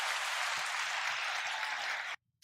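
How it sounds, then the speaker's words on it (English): A room full of people claps for student speakers at a local politics event, a dense burst of applause that holds steady for about two seconds, then cuts off abruptly, leaving one faint stray clap. "Give these guys a round of applause"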